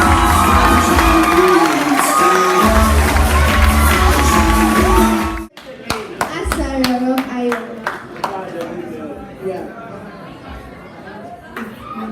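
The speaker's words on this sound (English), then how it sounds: "Please stand up and give her a round of applause." School audience at a state quiz competition awards event standing to applaud and cheer a winner inducted into a poetry club: dense crowd noise with shouts and whoops, then thinner scattered claps and chatter.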